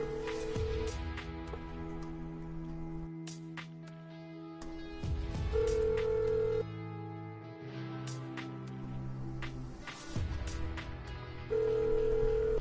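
Phone dialing and ringing during a Fortnite gaming session, steady tones recurring in long even bursts over busy game music and effects, with no talk over them.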